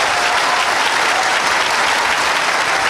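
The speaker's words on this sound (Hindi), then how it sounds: "मनीष भैया के लिए ताली बजाइए एक बार" An audience at a Gayatri Parivar gathering in Patna applauds for Manish, a dense, steady clapping that stays loud and even for the whole stretch, with no voices over it.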